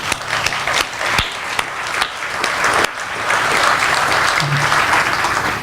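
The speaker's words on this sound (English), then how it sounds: "give them a cheer" A grand opening audience applauds and cheers for the organizations being thanked, loud clapping with several sharp claps carrying on throughout.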